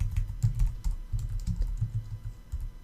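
Typing on a computer keyboard while entering text in Illustrator, a quick irregular run of close, soft key clicks with no talking.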